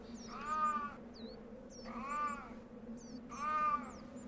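Wildcat in the wild in Croatia's Plitvice National Park, giving three drawn-out, rising-and-falling meowing calls at even intervals over a low steady drone, with faint bird chirps between them.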